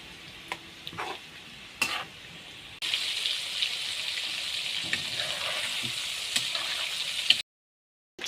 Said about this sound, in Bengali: এখন চিকেনগুলো ভাজবো।